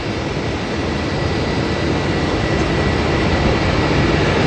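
An Airbus A320's jet engines spool up at Auckland Airport, a loud, steady broadband roar filling the whole clip without pause, dense and close, with no voices over it.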